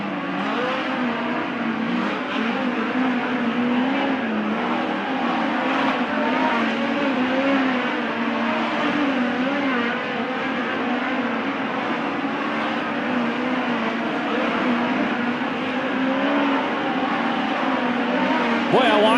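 USAC midget race cars qualifying on a dirt track at Merced: a continuous, loud, close engine drone with revving and throttle swells that holds for the whole stretch without a break.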